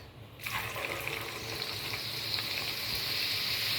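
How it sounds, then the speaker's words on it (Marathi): Onion frying in hot oil in a wok, set over a lowered flame, bursts into a loud, continuous crackling sizzle as the slices drop in and keeps hissing steadily. "आता जरा मी गॅस बारीक करते आणि थोडा थोडा कांदा तळायसाठी घालते त्याच्यात."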